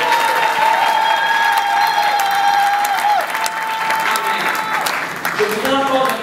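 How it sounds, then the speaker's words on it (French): An audience at the Palais de Congrès claps for an archbishop, sustained applause with some cheering and a faint voice and tones carrying underneath. "Est-ce qu'on peut acclamer l'homme de Dieu?"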